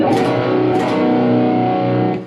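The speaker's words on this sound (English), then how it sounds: "stacked power chords sound like that." Heavy distorted electric guitar strums a couple of stacked power chords, thick and loud, ringing out briefly before cutting off.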